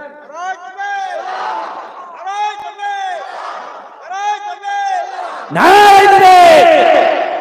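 Crowd at a Bangla Islamic religious gathering chanting the takbir in three call-and-response bursts, a loud massed roar of voices on the final repetition, with a leading voice between chants.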